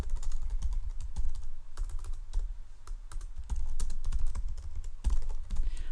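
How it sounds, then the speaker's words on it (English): Rapid typing on a computer keyboard, close and clear, with dense bursts of key clicks and a brief pause before the tapping resumes. "If I was to go ahead and type Alex at PHP"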